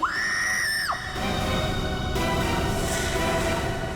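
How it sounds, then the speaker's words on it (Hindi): A loud, sustained scream from inside an office cabin in a crime drama, rising and then dropping off sharply after about a second. A steady, busy background hiss continues afterward. "सर के केबिन से जोर की चीख सुनाई दी"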